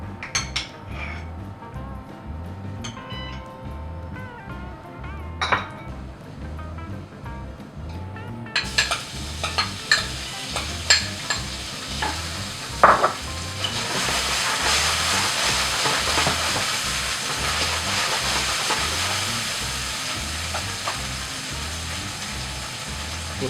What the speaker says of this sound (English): we can use the same pan for cooking the shrimps